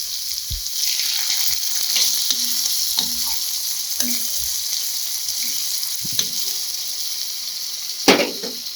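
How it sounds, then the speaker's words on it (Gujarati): A spoonful of water goes into a sizzling kurkure snack mixture in a pan, a steady hiss with stirring scrapes and a sharper splash-sizzle burst near the end, close, with no talking. "થોડું આપણે 1 ચમચી જેટલું પાણી એડ કરીશું."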